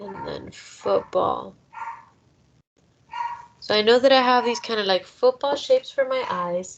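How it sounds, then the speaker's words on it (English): A dog barks and yips intermittently in the background of a room while someone talks over it as she describes drawing a self-portrait. "I'm so sorry if you guys can hear my dog barking in the background."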